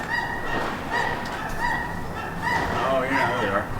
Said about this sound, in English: hope you can hear me over the sound of the birds